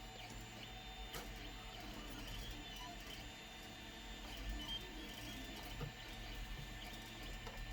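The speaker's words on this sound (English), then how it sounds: "That's my 3D printer making a tray for one of the jets." A steady mechanical whir and hum of a 3D printer printing a model jet tray, with faint ticks and motor whine, moderately quiet, no voices.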